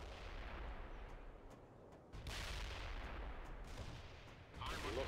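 Battlefield gunfire and artillery in the video game World in Conflict rumble continuously, with dull distant booms and bursts of shots layered in a dense, moderately loud din that surges at a couple of points.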